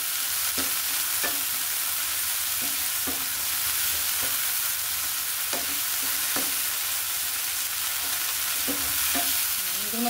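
Coriander leaves lightly frying in oil in a pan, a steady sizzling hiss throughout with occasional stirring scrapes and clinks, close and continuous.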